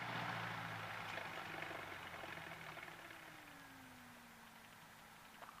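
A light aircraft engine is throttled back to idle during a checklist, its drone settling and falling in pitch to a steady low hum. The sound is close and continuous with no talk.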